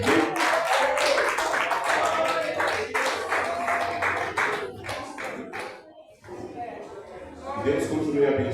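Church congregation clapping hands during a worship service, rhythmic close clapping that runs through most of the stretch, briefly dips, then picks up again, with voices heard alongside.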